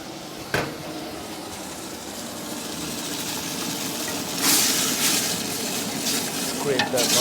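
A utensil scrapes the bottom of a stock pot as white wine is poured in to deglaze turkey stock, giving steady hissing sizzle with louder bursts of steam and scraping toward the end.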